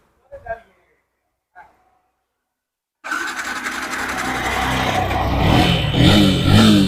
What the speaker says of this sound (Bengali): ওয়ান ক্লিকে স্টার্ট একদম ইঞ্জিনের আওয়াজ তো দারুণ আওয়াজ একদম হেভি আওয়াজ আছে